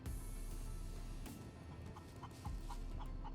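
Chickens cluck in short repeated bursts in the SCUM survival game near a nuclear power plant, layered over a steady low ambient hum with no one talking.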